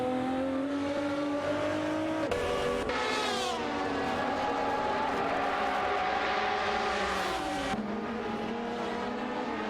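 Racing cars screaming past at speed, loud high-revving engine tones sweeping up and down with gear changes and overlapping passes, continuous and close, with no voices.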